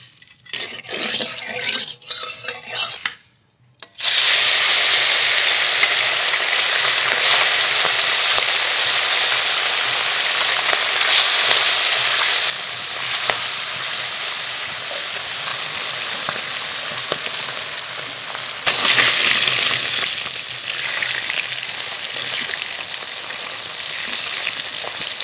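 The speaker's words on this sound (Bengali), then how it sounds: "মাছ খুব ভালো করে ভেজে নিয়েছি" Fish rubbed with salt and turmeric fries in hot mustard oil in a wok, a loud continuous sizzle that bursts up after a brief quiet moment, with occasional scraping of a utensil against the pan.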